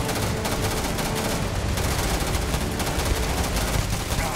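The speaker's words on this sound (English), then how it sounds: "Yo, chill on the shooting, man." Dense, continuous gunfire from the space-exploration video game Starfield, with rapid overlapping shots forming a steady, loud barrage throughout.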